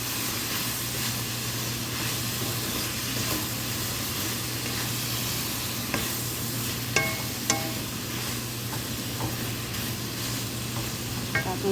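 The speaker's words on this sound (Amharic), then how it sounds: "ቅድም ያዘጋጀነው ፍልፍል ሮሚ እንቁላል እንጠብሳለን።" Eggs with a seasoning cube frying in a pan for a Chinese-style dish, a steady close sizzle with an electrical hum beneath and occasional scraping clicks of stirring.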